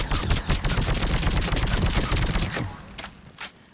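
Rapid sniper rifle gunfire in Mass Effect 3: a loud, dense, continuous burst of repeated shots for over two seconds, then a few isolated cracks as it tails off.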